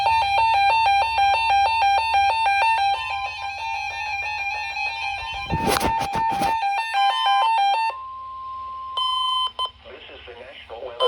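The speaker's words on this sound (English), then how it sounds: "The preceding signal was a test of the NOAA Weather Radio Station WXL-60 public warning system." NOAA Weather Radio public warning system test from the National Weather Service in Blacksburg, Virginia: a loud, steady multi-tone alert tone holds for several seconds, broken by a brief burst of data noise, then shorter beeps follow.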